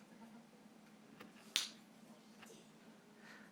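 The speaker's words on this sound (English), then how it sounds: "And yet all I do is snap my fingers." A single sharp finger snap by a stage magician cracks out near the middle, loud and close against a quiet, faintly humming room.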